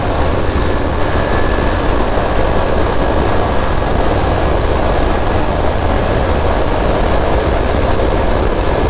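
A 2023 KTM Duke 250 motorcycle at full throttle at top speed, a loud continuous engine roar with heavy wind rush steady throughout, no talking.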